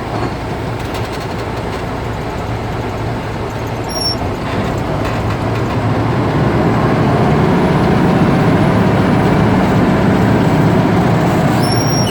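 Air brake test inside a truck cab, with a loud, steady rumble of the engine and air system running continuously and a few faint high hisses near the end, no talking.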